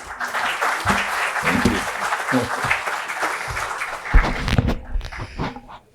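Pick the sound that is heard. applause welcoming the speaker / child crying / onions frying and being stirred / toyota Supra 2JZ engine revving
applause welcoming the speaker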